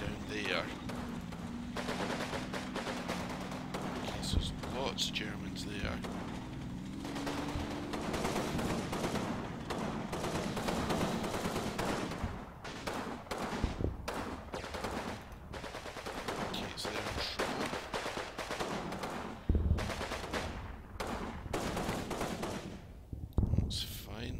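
Dense, continuous gunfire in the Combat Mission wargame, rattling machine-gun bursts and scattered rifle shots layered over rumbling battle noise, loud and sustained throughout without pause.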